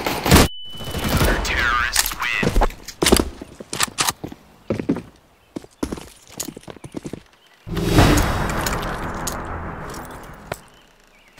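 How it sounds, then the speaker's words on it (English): A flashbang grenade goes off in a Counter-Strike match on the Inferno map, a loud burst after about eight seconds that decays into a hiss. Sharp gunfire cracks and footsteps come before it, and a voice speaks briefly. "Deploying flashbang"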